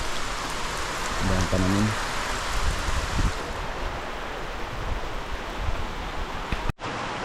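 Heavy rain pours steadily outside a house with garden plants, a dense, even hiss running throughout, with a voice speaking briefly over it early on.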